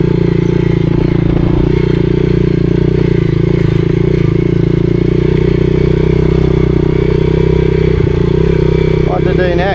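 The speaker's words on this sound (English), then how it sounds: "That's a couple of laps of the pit bike track." A pit bike laps a flat track with a steady, loud engine drone throughout, close to the microphone and joined by faint clatter and scraping, plus a brief voice near the end.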